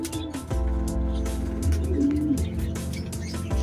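Racing pigeons back from a 212 km training flight from San Narciso, Quezon, cooing nearby, soft repeated throaty calls over a constant low hum, with a few faint chirps and no talking.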